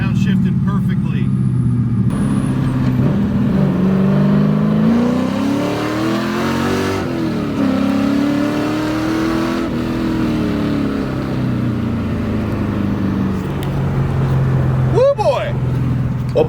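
A BMW E36 with a swapped LS V8 engine revs loudly up and down close by, the pitch climbing and falling through downshifts, with someone talking over it briefly near the end.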